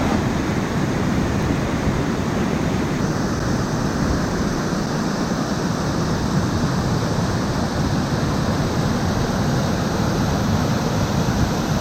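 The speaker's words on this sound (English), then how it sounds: "So we have now arrived at the Devil's Punchbowl, which is this waterfall" The Devil's Punchbowl waterfall at Arthur's Pass, New Zealand, roars loud and continuous in the rain, a dense, unbroken rush of falling water with no pauses.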